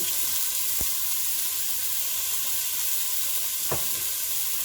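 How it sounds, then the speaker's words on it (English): Beef browning in a pot on a stovetop, a steady close sizzle and frying hiss running throughout with a couple of brief clinks or stirs. "Now while that's browning"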